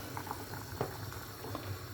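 A pot of potato and diced meat stew bubbling steadily as it simmers, a continuous close bubbling hiss with occasional louder pops and no talking.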